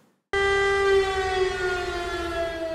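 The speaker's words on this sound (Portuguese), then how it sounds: "A sirene que tocou em Donetsk" A civil defense siren in Donetsk starts abruptly and wails steadily at a sustained pitch, loud and alone, with no voices.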